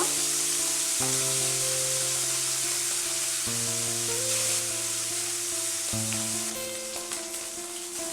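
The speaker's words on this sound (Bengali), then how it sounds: "সবগুলো মাছ একসঙ্গে দিয়ে দিয়েছি এগুলোকেও একইভাবে ভেজে নিব" Oil sizzles and crackles steadily as tengra fish fry, a constant hissing layer close by, with soft background music playing throughout.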